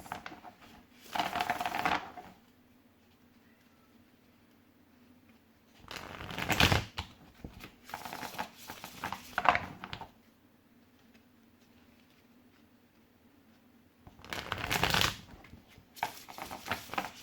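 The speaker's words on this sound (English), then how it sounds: "Going to give these a couple good shuffles." Tarot cards being shuffled in several separate bursts of close, crisp riffling and flapping, with quiet pauses between them.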